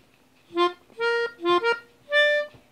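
A melodica plays a short melody from Your Lie in April, four reedy sustained notes with brief gaps, clear and alone in a quiet room.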